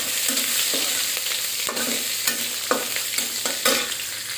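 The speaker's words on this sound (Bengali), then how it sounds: "বাগারটা হয়ে আসছে।" Onion and garlic sizzle steadily while frying for a tempering in a pan, with a spoon stirring and scraping through them in repeated clinks. The sound is loud and close, and nobody speaks.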